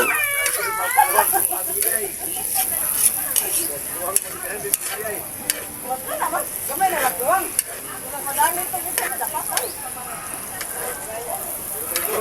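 Garlic sizzles in a frying pan while being stirred during home cooking in a rural Philippine province, a constant crackling fry with scraping stirs and a person talking over it.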